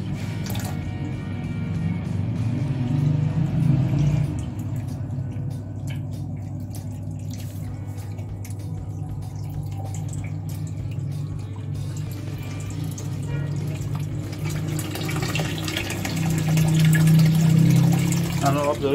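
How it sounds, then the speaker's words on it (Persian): Water gurgles and rushes steadily as an aquaponics grow bed overflows and its siphon drains, a continuous wet churning with a voice talking over it. "الان آب داره تخلیه میشه و سیفون داره انجام میشه"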